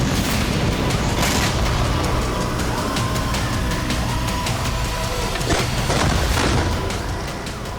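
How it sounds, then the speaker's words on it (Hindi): Bombing explosions in southern Lebanon come as a dense run of rumbling booms and sharp blasts, loud and continuous, with repeated impacts and a heavy low roar throughout. "इजरायली वायुसेना ने दक्षिणी लेबनान पर बमबारी की।"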